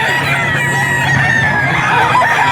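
A white streamer gamefowl rooster crows in a long, loud, close call, with clucking fowl around it on a farm and no voices.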